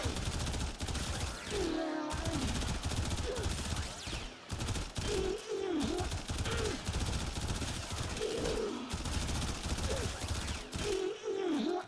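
A primary weapon in the shooter game Warframe fires in long, dense bursts against level 100 heavy gunners, the loud rapid shots nearly continuous, with brief pauses and a voice faintly underneath.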